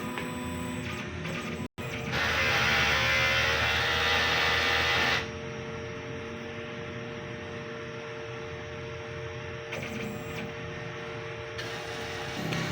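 A DTF printer runs a print head cleaning cycle, whirring and humming mechanically, with a louder pumping stretch early on, then a steady lower motor drone and brief clicks, close and alone.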